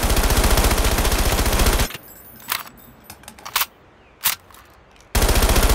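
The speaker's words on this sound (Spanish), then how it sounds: "realmente cuando le estás disparando y si está muy cerca lo vas a matar" Automatic weapon fire in Call of Duty Mobile: loud sustained bursts open and close the stretch, with a few isolated sharp shots and clatter in the quieter middle, no voices.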